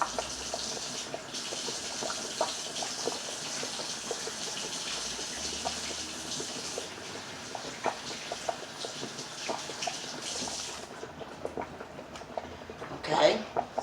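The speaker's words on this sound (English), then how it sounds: "Okay, so washing my hands, and get my fork." Tap water runs steadily into a kitchen sink while hands are washed before handling meat, a continuous faint gush that cuts off near the end, followed by a brief clatter.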